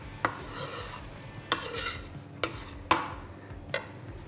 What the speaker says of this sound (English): And then finely slice.